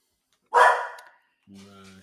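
A pet dog gives one sharp, loud bark indoors, followed after a short pause by a brief voice.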